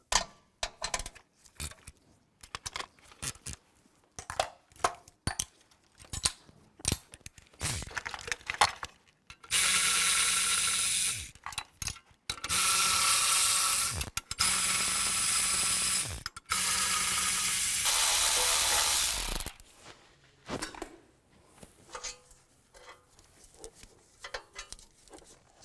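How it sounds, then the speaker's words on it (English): A 13mm socket wrench ratchets out intake manifold bolts on a 2017-2022 GMC Acadia, with bursts of rapid close clicking separated by pauses and a few long, loud, sustained ratcheting runs in the middle. "using a 13mm socket, take all these bolts out"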